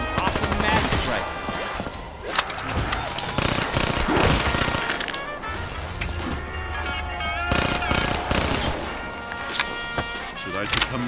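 Automatic rifle gunfire in Call of Duty Black Ops III rattles out in repeated rapid bursts, loud and near, amid dense game sound and a voice.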